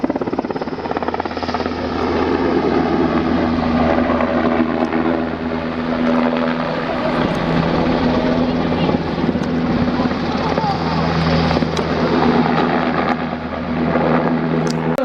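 Military display team helicopters at the Royal International Air Tattoo, their steady rotor thrum and turbine whine loud and continuous throughout, with a voice talking over it.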